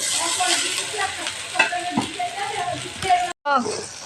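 Rice tipped into a hot pan and stirred while cooking, a loud continuous sizzle with scraping and clattering stirs, under steady talking, cut by a brief silence near the end.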